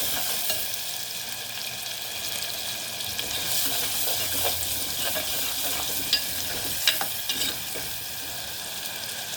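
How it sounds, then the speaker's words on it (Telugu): Onions sizzling and frying in a pan with salt added, a steady close crackle with occasional stirring scrapes and clinks, no talking. "ఆనియన్స్, కొంచెం గోల్డెన్ బ్రౌన్ రావాలంటే కొంచెం సాల్ట్ వేయాలండి. సాల్ట్ వేస్తే తొందర కొంచెం మగ్గిపోతుంది."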